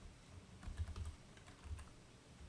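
A column name is typed on a computer keyboard in Power Query, a quiet cluster of soft key clicks in two short bursts, close up with no talking.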